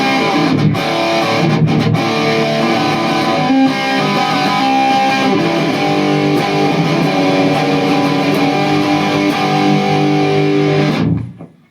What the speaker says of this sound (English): As you can hear, the distortion is starting to get a really creamy sound at the moment.